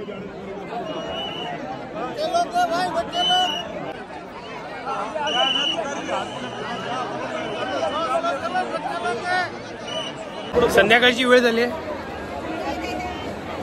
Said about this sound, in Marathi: गर्दी बघा केवढी आहे.